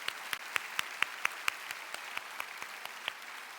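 A church congregation gives applause during a worship gathering: a steady run of sharp, rhythmic claps, roughly four or five per second, slightly distant, with no talk over it.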